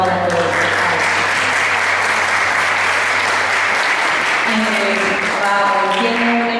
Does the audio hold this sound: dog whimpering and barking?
no